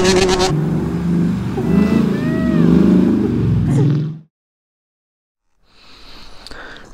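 A dirt bike engine revs hard while the rider moves, a loud close snarl that rises and falls for about four seconds, then cuts to silence before faint noise returns.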